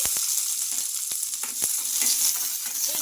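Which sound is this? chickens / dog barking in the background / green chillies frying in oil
green chillies frying in oil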